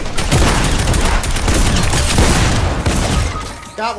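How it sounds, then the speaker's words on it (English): Gunfire in the Fortnite video game, a dense, loud barrage of rapid shots and crackling impacts filling the whole stretch before easing off at the end, with no speech. "Is somebody shooting?"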